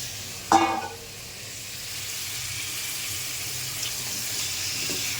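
Onion, carrot, potato and pumpkin frying in hot oil in a pan give a steady, even sizzle. A short clatter near the start comes before the hiss settles and holds at the same level, with no talking.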